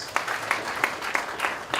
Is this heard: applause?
yes